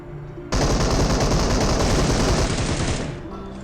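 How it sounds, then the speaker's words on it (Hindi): Sustained automatic gunfire from an enemy pre-firing in PUBG, played on an iPad Air 3: a loud, rapid burst of shots that starts abruptly and runs for about two and a half seconds before cutting off, with no talk over it. "ये इसका पहला प्री फायर, अब ये इसका दूसरा प्री फायर।"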